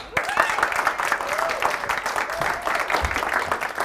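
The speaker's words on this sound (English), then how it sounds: "Well, keep clapping, everyone." An audience claps to welcome a speaker at a speakers' bootcamp event, a steady smattering of applause throughout with scattered cheers and voices mixed in.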